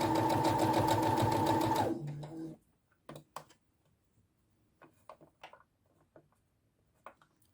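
A sewing machine stitching bias binding onto fabric in one pass, a fast rhythmic mechanical whirr for about two seconds that slows and stops, followed by scattered quiet clicks and handling sounds.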